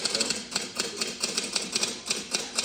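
Rapid, even typewriter-like clacking keeps a fast rhythm of sharp taps throughout, loud and close, with no speech over it.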